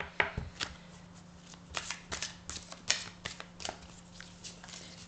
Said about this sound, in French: j'ai du mal ce matin avec tout ce paquet de cartes.